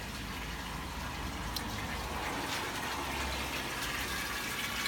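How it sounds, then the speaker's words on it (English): Water drains steadily from a koi pond filter tank through an opened ball valve, a soft, continuous gushing hiss that stays faint and even throughout. "I can open this ball valve and again drain it"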